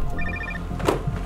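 A telephone rings with a short electronic trill, then a second burst follows amid faint background noise and movement in a tense indoor scene.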